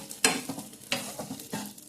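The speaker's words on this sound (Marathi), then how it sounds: "चांगलं मिक्स करून घ्यायचं आपल्याला" Boiled pasta stirred in a buttered pan, a series of spoon scrapes and clacks against the pan in an uneven rhythm over a faint sizzle, close up and without talk.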